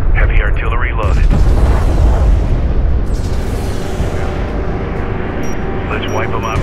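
Heavy artillery fire and explosions in the real-time strategy game Homeworld: Deserts of Kharak, loud low booms and rumbling blasts under game voice chatter and alerts.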